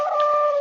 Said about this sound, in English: that was just a dog, Dora